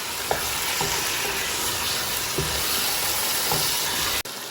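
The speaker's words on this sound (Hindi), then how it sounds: "इसको मैं डालूंगी इसमें और तो इसको अब मैं मीडियम से हाई हीट पे कुक करूंगी और अच्छे तरीके से इसको हम मिला लेंगे।" Chicken pieces fry in a pan on medium-high heat for a simple chicken salan, a dense continuous sizzle with a few soft scraping stirs breaking through, close and alone with no voices.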